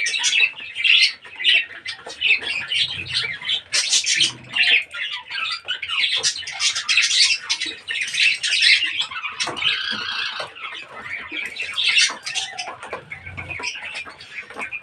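Pet birds in a cage chirp and squawk continuously at close range, a dense, lively chatter of overlapping high calls with no pause.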